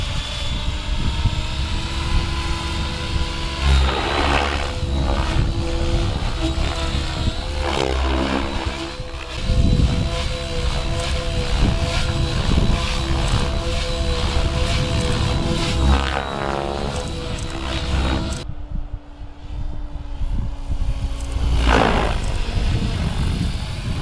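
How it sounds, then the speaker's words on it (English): A radio-controlled model helicopter's high, whining rotor and motor buzz, rising and falling in pitch as it maneuvers, steady and fairly close throughout. "I'm just going to show you a quick clip of how I actually fly this helicopter"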